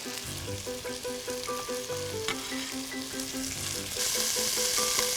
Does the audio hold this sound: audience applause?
no